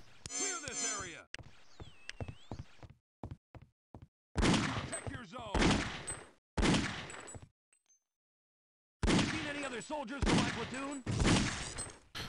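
Bursts of gunfire from a weapon in Half-Life: Opposing Force, loud clustered shots separated by near-silent gaps, with brief voice and game effects between the volleys.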